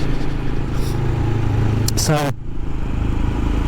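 A Royal Enfield Scram 411 motorcycle rumbles steadily while being ridden, a loud continuous engine drone with wind buffeting, and a rider speaks briefly over it.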